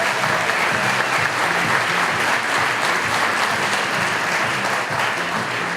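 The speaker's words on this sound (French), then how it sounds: "Je vous demande un tonnerre d'applaudissements pour Anne-Claire." A large audience at an evening gathering breaks into loud, dense applause, a sustained roar of clapping that fills the whole stretch evenly, with faint crowd murmur underneath.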